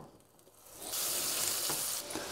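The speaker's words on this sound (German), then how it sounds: "Dann kommt jetzt noch etwas Butter in die Pfanne." Butter hitting a hot frying pan, a soft lead-in that swells into a steady, bright sizzle which holds loud and continuous to the end, with no voices.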